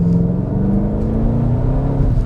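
A Chevrolet Camaro SS V8 accelerates close by, its deep loud engine note rising steadily in pitch.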